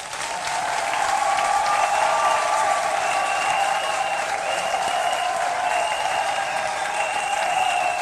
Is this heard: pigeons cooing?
no